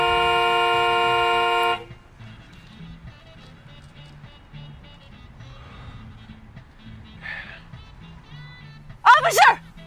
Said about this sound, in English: You can't just honk and get your way.